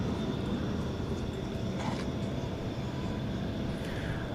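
An American Airlines Airbus A321 departs DFW Airport at night, a steady, loud broadband engine roar holding throughout with no speech.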